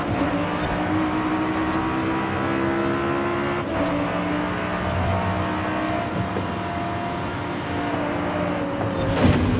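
A McLaren 720 GTR races past a Lexus LFA in Forza Horizon 5, its engine roaring steadily at high revs with shifting pitch, brief tire noise and a passing car's sound, loud and continuous throughout.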